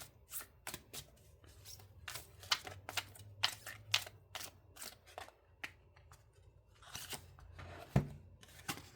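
Tarot cards are handled and shuffled close by, giving a string of quick, crisp riffling clicks and slaps in irregular bursts with quiet gaps between.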